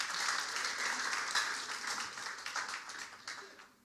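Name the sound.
church congregation applause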